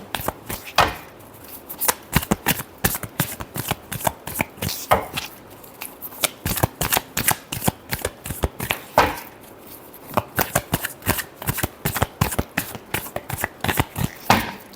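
Tarot cards are shuffled by hand in quick repeated bursts of sharp riffling slaps and taps, close and crisp, with short pauses between rounds and no talking.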